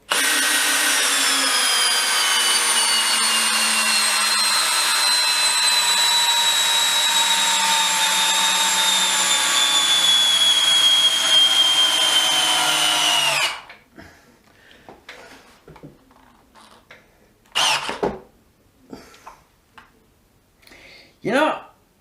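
A DEWALT DCD701 12V brushless cordless drill in screwdriver mode drives a screw with a loud, steady whine that slows slightly before cutting off abruptly, followed by a few clicks, clunks and low talk.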